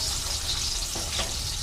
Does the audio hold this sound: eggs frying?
yes